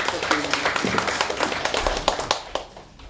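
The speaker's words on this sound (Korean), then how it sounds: "뜨거운 박수를" Crowd clapping at an academic winter workshop lecture on Korean Buddhism, a dense steady patter of many hands filling the room for a few seconds before thinning out at the end.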